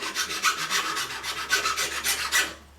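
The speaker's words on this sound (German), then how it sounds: "Immer diese Werkstücke entgraten." A cut sheet-metal workpiece is deburred with quick back-and-forth rasping strokes, a rhythmic scraping about four strokes per second, close and fairly loud, ending abruptly.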